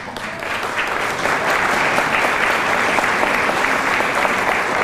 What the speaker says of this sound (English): This should be a very warm round of applause